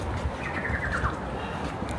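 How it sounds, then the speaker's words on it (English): Faint bird chirps sit in a noisy outdoor background near Puerto Montt, Chile, a few short tweets rising over low rumble and traffic-like hiss. "I hear birds."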